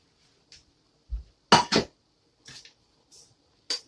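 Cooked sausages are moved into another container and pan, giving a few scattered clinks and knocks of metal cookware and utensils, with one louder double clatter and short quiet gaps between the sounds.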